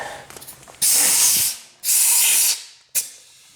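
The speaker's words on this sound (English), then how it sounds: "This has a slight bit of blow by, but nothing like that other side." Blow-by from a 6.0 diesel engine escapes around loosely fitted threads in three loud, close hissing bursts. The first two each last about a second and the final one is short and sharp.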